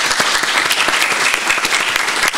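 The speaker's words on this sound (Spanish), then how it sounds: "les pido pues un aplauso para todos ellos" Audience applause at the close of an architecture forum on transhumanism: a dense, steady patter of many hands clapping, loud and close, with no talk over it.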